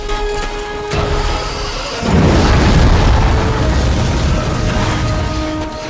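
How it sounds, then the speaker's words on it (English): An explosion in the Dead Space 3 video game erupts as a loud, broadband boom after a steady background hum, then holds as a sustained, roaring rumble that slowly fades. "he just sidestepped the explosion."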